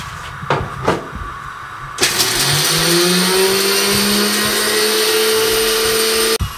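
A kitchen blender whirs up to speed and grinds almonds, cashews and cumin into a paste, a loud steady motor drone that follows a few short knocks and cuts off abruptly at the end.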